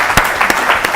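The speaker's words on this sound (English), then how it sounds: "Let's clap for them, please." Brief burst of audience clapping for a school team at a quiz competition, a loud close patter of hand claps lasting only a moment.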